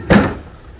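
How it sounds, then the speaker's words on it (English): A heavy glass-panelled Samsung refrigerator door swings shut with a single dull, close thump, followed by a short fading rumble. "The door is pretty heavy on this one"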